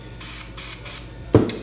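Aerosol spray can releasing paint into a cap for a K/DA Akali light-up spray can prop: three short, close hissing bursts with brief gaps, then a hard clunk and some handling noise.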